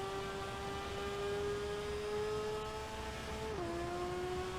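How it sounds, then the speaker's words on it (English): An Isle of Man TT racing sidecar engine screams steadily under full throttle on an uphill climb, holding a high sustained whine that dips briefly as it shifts. "Revving it all out as we climb uphill."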